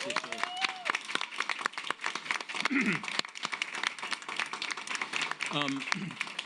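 Audience applause at a celebration of Latin culture in the U.S., a dense steady patter of many hands clapping throughout, with voices talking and calling out over it.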